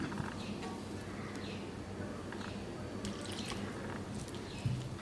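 Water being added to flattened-rice dough gives faint, soft dribbling and trickling under low background noise, steady throughout.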